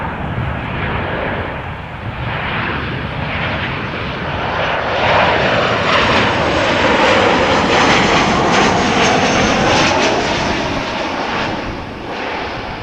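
Jet airliner at Amsterdam Schiphol Airport, a 15-year-old plane arriving from Madrid, roaring loud and close as its engine noise swells and then eases slightly, with no voices.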